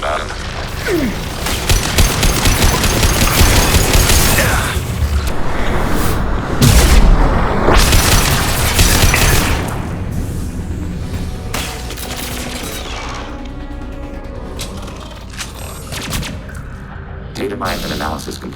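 Dense gunfire and booming explosions from the Mass Effect 2 video game, loud and sustained with rapid bursts and heavy blasts. Mechanical rumbles follow, and a synthetic voice speaks briefly over the noise.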